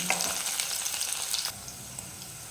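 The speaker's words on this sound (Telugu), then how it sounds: "కొద్దిగా ఆనియన్ బ్రౌన్ కలర్ వచ్చే వరకు ఇలా కలుపుతూ ఉండాలి" Onions sizzle and fry in hot oil in a pan with dried red chillies while being stirred, a steady close crackling hiss with scraping stir sounds that drops to a quieter sizzle partway through.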